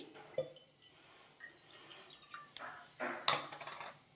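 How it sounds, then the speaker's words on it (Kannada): Water pours into a bowl of sugar and cornflour, heard as faint splashing and trickling that swells briefly toward the end, with light clinks of the bowl. "ನಾನು ಸಕ್ಕರೆ ಮತ್ತು ಕಾರ್ನ್ಫ್ಲೋರ್ ಹಾಕೊಂಡಿದ್ದಂಥ ಬಟ್ಲಲ್ಲಿ 1 ಬಟ್ಲು ನೀರನ್ನು ಹಾಕ್ಕೊಳ್ತಾ ಇದ್ದೀನಿ"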